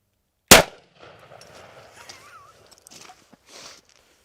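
A gunshot strikes Caliber Armor backpack armor: one loud, sharp report up close, followed by faint handling, shuffling and clinking sounds.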